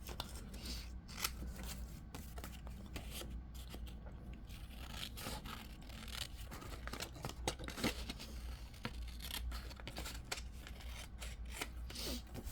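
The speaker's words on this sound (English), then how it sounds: "Just snip it off, snip it off." Scissors snip and trim paper for a junk journal, with soft, quiet cutting and rustling sounds spread across the clip.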